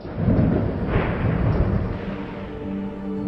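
A low, heavy rumble of thunder rolls continuously for a few seconds, dense and booming, then slowly fades.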